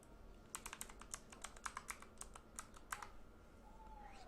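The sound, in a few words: typing an address on a computer keyboard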